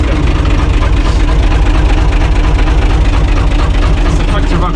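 A U445 DT 4x4 tractor's engine runs loud and steady, a constant low rumbling drone close by throughout with no pauses.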